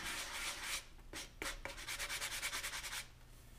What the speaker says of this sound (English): Just sand it flat.